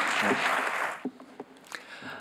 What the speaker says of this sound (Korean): 이제 올라오실 때 우리 뜨거운 박수로 함께 환영하겠습니다